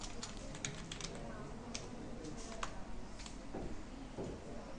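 Keyboard keys tapped at a steady, quick pace to enter a client ID, a run of soft close clicks over a faint hum with a little background noise.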